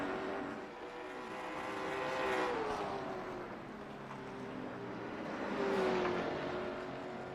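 Race car engines at Hickory Motor Speedway in a sim racing game swell and fade as cars pass on warm-up laps, two rising-and-falling waves of engine whine and roar, fairly loud with no talk.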